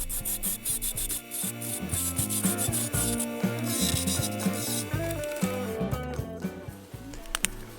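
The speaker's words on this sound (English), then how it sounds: "Then I got tired of hand sanding" Wood spinning on a lathe is sanded, moving from 80 to 100 grit, giving a continuous rubbing rasp that comes in rhythmic pulses, close and moderately loud, with no talk.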